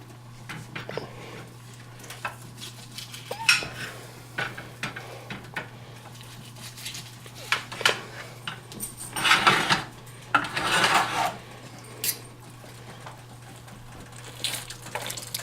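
A knife slices through juicy cooked corned beef on a board, giving soft wet squishing and scraping strokes in irregular bursts, a few louder, over a steady low hum.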